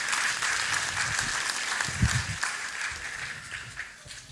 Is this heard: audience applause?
yes